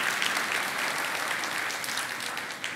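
A church congregation at a sermon gives brief, steady applause, a dense wash of clapping held at an even moderate level throughout, with no speech over it.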